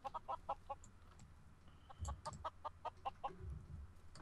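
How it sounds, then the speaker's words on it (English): Chickens clucking in a video game, a rapid string of short, sharp clucks in bursts with brief pauses, fairly close and clear with no talking. "Am I below the chickens?"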